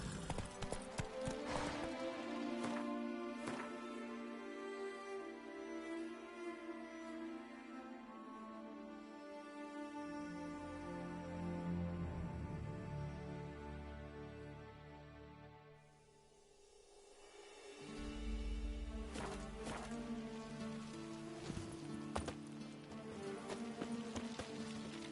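Roach the horse galloping in Witcher 3, with steady rhythmic clip-clop hoofbeats running nearly throughout under a game music score, easing briefly before picking up again.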